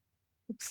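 A single sneeze heard close up on a podcast recording, a brief sharp burst that cuts off quickly, followed by a short spoken word.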